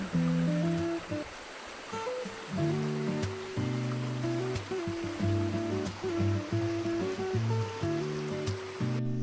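Water flows where a river meets the sea with a continuous, even rush, with soft sustained musical tones layered over it.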